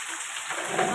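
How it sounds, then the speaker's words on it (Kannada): Heavy rain pours down in a wind-driven storm, a thick, steady hiss that swells louder toward the end of the brief moment. "ಎಷ್ಟು ಜೋರು ಹೊಂಟದ್ರಿ ಮಳೆ."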